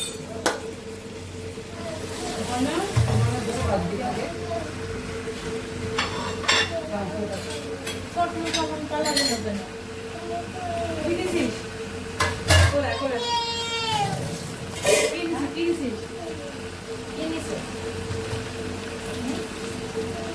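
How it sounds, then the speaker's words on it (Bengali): Meat sautéed with spices in a pot gives a low, steady sizzle beneath frequent clinks and scrapes of a utensil against metal, with a person talking over it throughout. "এদিকে মাংসটা কষানো হচ্ছে"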